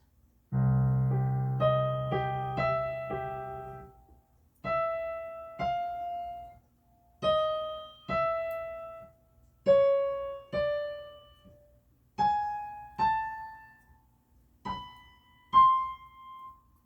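A solo piano plays a short melody: an opening chord flourish, then single notes in pairs with gentle pauses, clear and unaccompanied.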